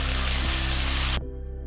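Ginger garlic paste frying in a pan for creamy malai chicken, a loud steady sizzle close up that cuts off abruptly partway through, leaving a faint hum.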